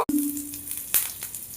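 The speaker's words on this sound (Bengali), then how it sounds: "এই তেল গরম হয়ে গেছে, জিরা ফোড়ন দিয়ে দিচ্ছি।" Cumin seeds dropped into hot oil for aloo paratha filling give a short, close hiss, with a sharp click at the start and another brief crackling burst partway through.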